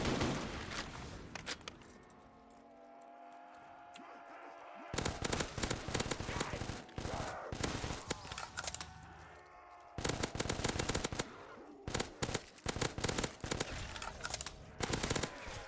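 Scar H rifle fire in a zombies video game, rapid bursts of loud automatic shots in several volleys separated by brief lulls.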